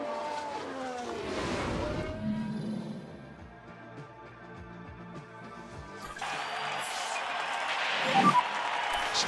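F1 race cars from the 1992 season in the F1 Manager 2022 game roar past, engines rising and fading in pitch as cars sweep by at speed, with a louder pass near the end.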